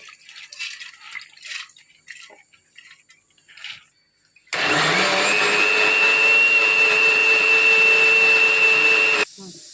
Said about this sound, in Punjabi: ਹੁਣ ਅਸੀਂ ਇਹਨੂੰ ਚੰਗੀ ਤਰ੍ਹਾਂ ਪੀਸ ਲਵਾਂਗੇ ਚੰਗੀ ਤਰ੍ਹਾਂ ਗ੍ਰਾਈਂਡਰ ਕਰ ਲਈਓ ਸਾਰੀ ਦਾਲ